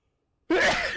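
One sharp, close sneeze bursts out after half a second of silence, loud and abrupt, then trails off into a breathy tail.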